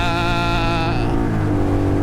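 Ducati Scrambler motorcycle engine revving hard and steady, a loud sustained roar that drops in pitch partway through as the throttle eases.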